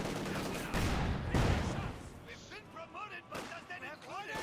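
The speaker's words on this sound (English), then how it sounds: "Panzer 4 takes a nice hit from the field gun." A field gun firing in the strategy game Company of Heroes 2, hitting a Panzer IV: a few heavy booming shots among game effects, with a commentator talking over them.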